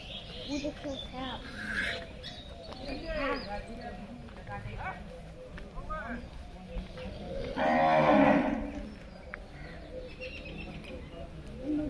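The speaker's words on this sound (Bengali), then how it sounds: "cow" A cow lows near a rural Mayapur field with straw stacks, several drawn-out moos mixed with voices talking, a few birds and one louder broad burst near the end.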